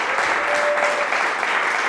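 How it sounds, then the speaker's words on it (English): Steady, dense applause from a live studio audience, loud and continuous for a couple of seconds with no voices over it. "That is a very good clap."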